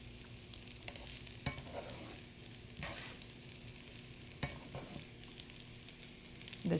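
Shrimp fried rice with vegetables and butter sizzles in a pan over medium heat, a soft, continuous frying hiss broken by repeated scraping stirs, with no talk.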